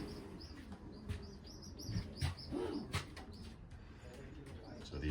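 Racing pigeon hens cooing softly in a loft, with low murmuring coos and faint chirps layered over a steady ambient hum, a few brief louder bursts near the middle.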